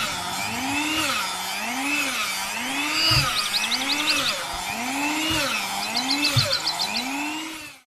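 A mixer kneads potato milk donut dough until smooth, its motor whining in a steady rhythmic cycle about once a second, with a soft repeated knock and no talking.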